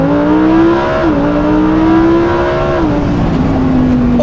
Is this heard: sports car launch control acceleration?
yes